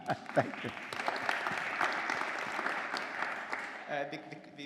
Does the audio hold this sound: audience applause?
yes